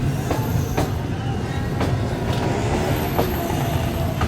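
A Shalimar Express passenger train rolls into the main platform at Kanpur, its wheels clacking at regular intervals over rail joints with a steady low rumble and faint squeals, no voices heard.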